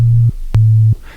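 Pure sine oscillator tone from a Deluge synthesizer, played as two sustained low notes separated by a short gap, smooth and steady with no voices.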